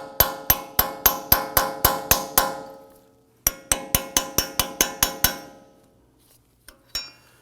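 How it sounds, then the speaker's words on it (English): A tool rings against the wheel center cap of a Ford F-150 with a steady series of sharp metallic taps, about three per second. After a brief pause a second run follows, then a couple of lone clinks and quiet. "You can sometimes use a chisel to pop in here."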